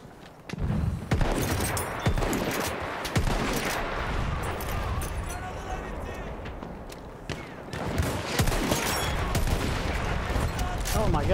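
Dense battlefield gunfire in the shooter Battlefield 1, rapid overlapping shots and bursts running almost continuously with heavy low rumble, briefly thinning in the middle before swelling again.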